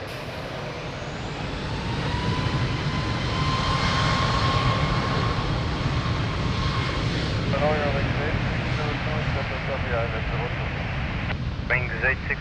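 A jet airliner rolls for takeoff on runway 02 at Lisbon Airport, a steady broad engine roar building over the first seconds and holding loud, with brief radio-style chatter toward the end.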